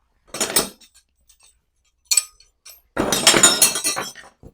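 Broken pieces of neon sign glass clink and rattle together in three separate bursts, short at first, then a longer, louder spell of jangling shards nearby during a neon sign repair.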